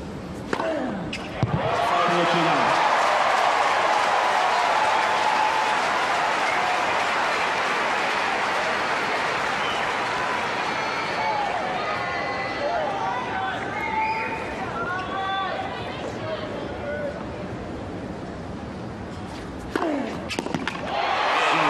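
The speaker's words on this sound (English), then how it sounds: "And a standing ovation, the crowd rising to Agassi as he consolidates the break" Tennis crowd giving Agassi a standing ovation at the 2004 Cincinnati final, a dense roar of sustained clapping and cheering that swells and slowly fades over about twenty seconds, with commentary beneath.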